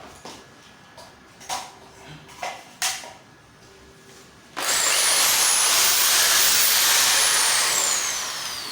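A few scattered knocks and clunks, then a power drill with a wood drill bit starts up loudly and whines continuously at close range while drilling a wall to mount a flat-screen TV, its pitch shifting as it bites.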